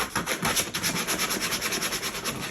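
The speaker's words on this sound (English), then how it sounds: "Let's say just take a little piece of sandpaper." Small piece of sandpaper rubbed back and forth over rough plastic edges of a hamster bin cage, a quick rhythmic scratchy rasp of about a dozen close strokes.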